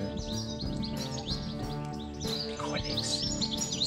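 Birds chirping and calling continuously on a canoe trip through Weerribben-Wieden National Park in the Netherlands, with several overlapping tweets close by over a dense tonal background.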